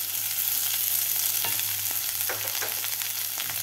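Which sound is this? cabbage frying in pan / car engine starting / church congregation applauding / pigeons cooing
cabbage frying in pan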